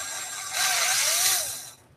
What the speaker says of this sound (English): if you don't have these step drill bits